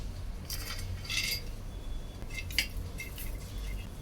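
Dry fruits roast over low heat in a pan for semolina and fresh coconut kheer, heard as light metallic clinks and scrapes of a spoon against the pan in a few short bursts over a quiet background.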